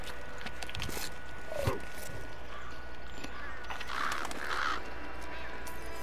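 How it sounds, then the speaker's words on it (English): Crows caw in the PaRappa video game, several harsh calls over a steady game backdrop, mixed with a short vocal sound and other game effects. "Crows?"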